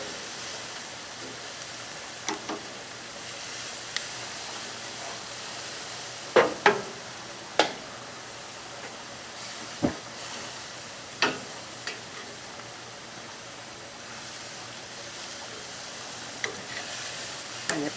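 Costco marinated skirt steak and red onions sizzle on a grill in a steady hiss, broken by a few sharp pops and crackles spread across the stretch.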